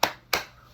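Two sharp hand claps, close and crisp, about a third of a second apart, each ringing out briefly before a quiet gap.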